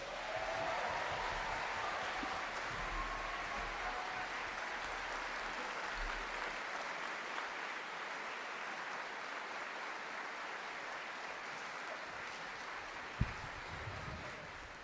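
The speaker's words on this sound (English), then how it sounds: "One more round of applause for these guys." Audience applause fills a Young People's Concert hall after The President's Own big band plays, a sustained wash of clapping that is fairly faint and steady for about thirteen seconds before it thins out.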